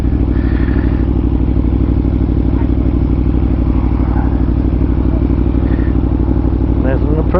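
Aprilia Tuono motorcycle engine running steadily and loud throughout, a dense continuous drone with faint rising revs near the end.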